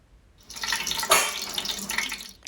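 Whole spices (cinnamon, cloves, cardamom and star anise) dropped into hot oil and ghee for mutton dum biryani, giving a loud, steady broadband sizzle that surges sharply on entry and continues alone without talk.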